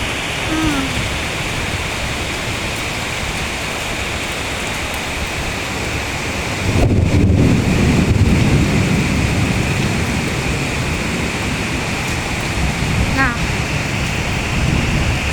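Heavy rain pours in Kuala Lumpur, Malaysia, as a loud, dense, unbroken hiss that swells into a heavier low roar around the middle, with no distinct thunder claps standing out.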